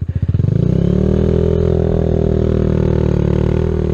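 A Kawasaki Z125 motorcycle engine sounds close and loud, chugging at idle and then rising into a steady droning rev as it pulls away, with no talking.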